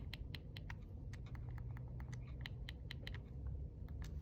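Quick, light key presses tap out numbers on a calculator in an irregular patter, faint against a steady low background hum.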